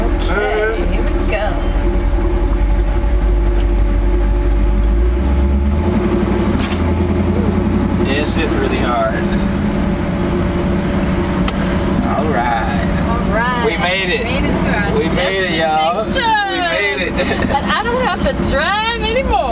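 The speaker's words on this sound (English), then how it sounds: "You gotta make a beat to the sound of the engine." A cammed Chevy C10 truck engine runs loudly while the truck drives, a low rumbling drone with pitch shifts as it changes speed. People talk over it throughout.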